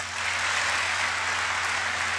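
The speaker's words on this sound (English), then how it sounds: "We're clapping." Steady applause fills the room during a live State of the Union address, dense and sustained clapping from many hands with no talk over it.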